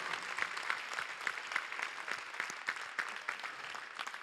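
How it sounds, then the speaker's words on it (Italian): Applause from a political rally crowd in a hall in Foligno, moderately distant, with uneven clapping and distinct sharp claps popping out of the steady patter. "Fate arrivare l'applauso della sala, chi è in piazza."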